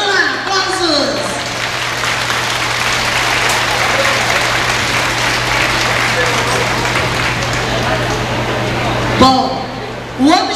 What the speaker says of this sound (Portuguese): Vamos lá, aplausos!